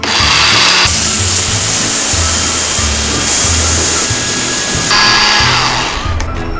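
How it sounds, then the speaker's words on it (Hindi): A loud electric spice grinder whirs steadily, milling achar gosht masala spices for a Pakistani recipe, with one brief drop in pitch partway through before the motor spins down at the end; no talking. "कलौंजी के अलावा तमाम मसालों को मैं ग्राइंडर में डाल के अच्छे से पीस लेती हूँ"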